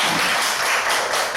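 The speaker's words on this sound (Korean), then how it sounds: "두 분께 박수로 축복하겠습니다." A church congregation claps in blessing during a Sunday service, a brief, loud burst of many hands applauding in a dense, even patter.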